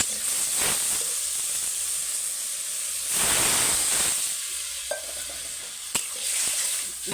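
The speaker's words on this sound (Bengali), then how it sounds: "এবার আমি জল ঢেলে দেবো" Water poured into a pan of frying spices and prawn greens, giving a loud hissing burst of steam and sizzle that swells, fades and returns with a few clinks of stirring, close up.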